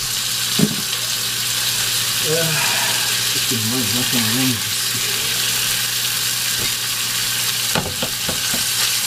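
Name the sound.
ground meat frying for tacos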